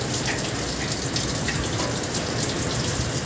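Water gushes steadily and loudly from a working blower filled with water, a dense continuous rush with no break or talk.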